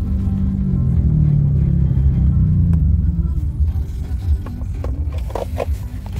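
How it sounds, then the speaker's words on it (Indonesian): Congested traffic on a Jakarta road, idling and creeping cars giving a low, steady engine rumble heard from inside a vehicle, with faint movement noises at the end. "Ini macet banget, guys."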